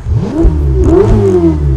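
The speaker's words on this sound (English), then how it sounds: "Let's hear a good exhaust note, AK." A Ferrari 488 Spider engine revs hard nearby, its exhaust note rising and falling in loud, smooth sweeps with no talk over it.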